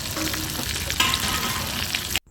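Kofta balls fry in hot oil over medium-low heat, a steady close sizzle with crackling spatters that runs evenly before cutting off abruptly near the end.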